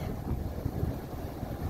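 Low, gusty buffeting rumbles steadily across a microphone, a dull windy roar with no voices.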